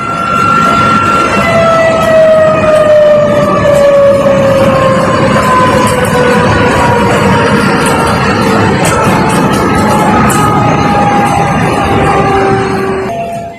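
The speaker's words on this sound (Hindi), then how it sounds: "देखिए जरा वहां कैसे सायरन बज रहा है" A loud emergency siren wails continuously during flooding from a cloudburst, its pitch sliding slowly downward over a steady roar of background noise.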